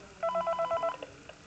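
A phone rings in the horror game Five Nights at Freddy's 3, a short burst of repeated electronic ring tones followed by a few faint clicks.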